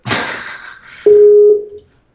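A brief burst of noise followed by a single steady electronic tone, like a telephone dial beep, lasting about half a second before fading.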